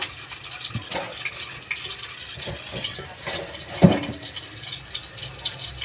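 Tap water running while moringa, sweet potato and bitter gourd leaves are washed, a steady close splashing stream with irregular gushes and one sharper splash, no talking.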